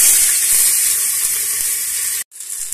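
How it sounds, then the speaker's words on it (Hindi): Rice frying in desi ghee with cumin gives a loud, steady hiss and sizzle close by, cutting out briefly near the end before resuming. "अब इसमें हम हमारे चावल डाल देंगे।"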